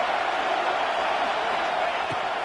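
Steady, dense roar of a stadium crowd at an NCAA 26 college football game, a continuous wash of noise throughout with no distinct voices standing out.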